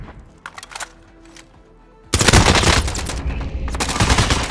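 Sustained burst of automatic gunfire in a battle royale video game erupts loudly after a couple of seconds of quieter sporadic shots, continuing dense and rapid to the end.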